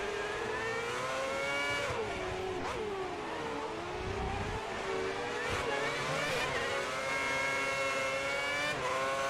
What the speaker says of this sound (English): Always sounds like the clutch is slipping if you upshift early